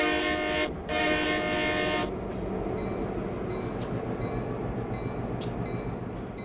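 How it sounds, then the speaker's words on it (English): A locomotive in the Train Simulator 2014 game throttles up in reverse, with a loud high tonal hiss cutting off after two seconds, leaving a steady rumbling diesel drone and faint clicks, no voices. "Release brake, we're in reverse on the reverser, give it some throttle."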